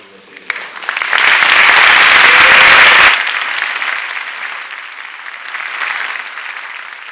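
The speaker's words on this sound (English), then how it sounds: "So we can give them a round of applause for everything that they've done." Audience applause for a Board of Education at a school honors awards ceremony swells into loud, dense clapping in a hall, then cuts off and gives way to quieter murmuring and scattered claps.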